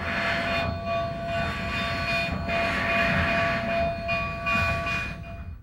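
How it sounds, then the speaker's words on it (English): Rio Grande steam locomotive number 487 getting underway from Chama, a bell ringing steadily over the hiss of steam blown from the cylinder cocks, loud and continuous. "With an appropriate amount of bell ringing, number 487 blows steam out of its cylinder cocks and gets underway."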